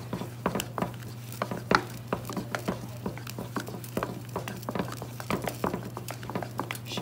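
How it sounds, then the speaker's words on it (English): Choux dough gets stirred vigorously in a hot pot on a burner, a rapid run of sticky scrapes and dull clacks of the spoon against the pan, close and steady, with a low hum behind. "I'm just stirring it very vigorously till I get a dough ball"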